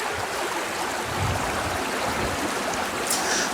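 Small waterfalls on the Kallada river at Meenpidippara send up a continuous broadband rush of flowing water, steady and fairly loud throughout with no voices.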